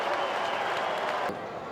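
An AFL stadium crowd roars after a goal, a dense, steady wash of cheering that drops off sharply near the end.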